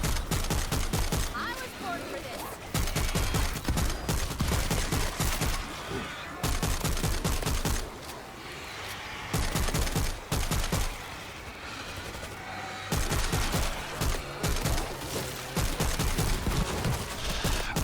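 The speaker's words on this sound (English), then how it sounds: "Shotgun is okay here, but a battle rifle or bullpup would have been a lot better." Shotgun fire in the zombie shooter World War Z, played on the Mars level: dense bursts of repeated blasts in clustered volleys with brief pauses between them, loud and continuous over busy game noise.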